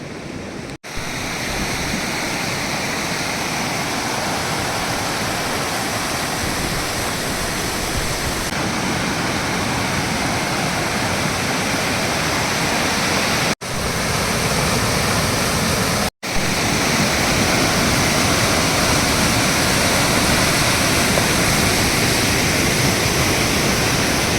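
The Kumandala river, the smallest river in Maharashtra, rushes in a loud, unbroken roar of flowing water over rocks near Khed in Pune district, with a few brief dropouts.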